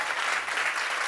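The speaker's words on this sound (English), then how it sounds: "Can we just give them a round of applause as well?" Crowd at an advertising industry event clapping for volunteers, a full, even burst of many hands applauding close by, sustained for about a second without voices.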